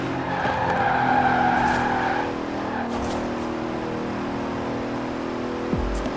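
A 2017 Bentley Continental Supersports in the Forza racing game drives with a steady engine drone and a tire squeal that rises early then settles into a continuous hum, without talk.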